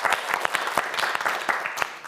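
Audience applause at a Korean student science quiz show, a short, dense burst of clapping close up, with a little speech faintly mixed in.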